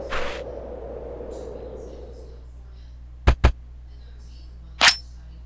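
A teleporter in the Henry Stickman game sounds off with a soft hiss that fades out, followed by two quick, sharp clicks and then a single brief, bright zap.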